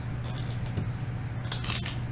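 Scissors snip through duck tape while a wallet is being made, giving a few short, crisp cuts close up over a low background hum, with one quick snip followed by a longer cutting burst.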